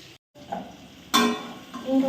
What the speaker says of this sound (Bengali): আর এখানে আমি তেলটা গরম করে জিরা ফোড়ন দিয়ে পেঁয়াজ কাঁচা করে ভেজে নিচ্ছি